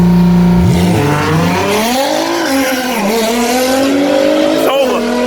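A McLaren 720 without launch control and a tuned Nissan GTR launch in a quarter-mile drag race: loud engines rise in pitch through several gear shifts, with a brief tire squeal near the end.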